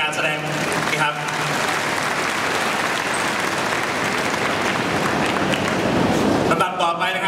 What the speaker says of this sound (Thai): ขอเสียงปรบมือดังอีกครั้งนะครับสำหรับการแสดงนะครับ